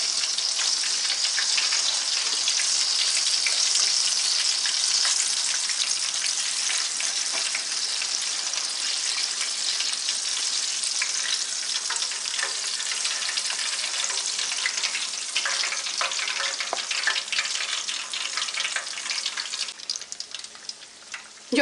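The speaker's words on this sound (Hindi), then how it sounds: "जो बाकी रह गई उनको भी फ्राई कर लेते हैं।" Pieces of fried fish crackle in hot oil in a Lahori-style spicy fish fry, a steady loud sizzle that runs unbroken for the whole stretch and thins slightly toward the end.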